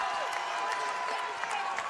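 Basketball arena crowd at a Fordham versus St. Bonaventure game, a steady wash of cheering and applause close by, filling the whole moment without pause.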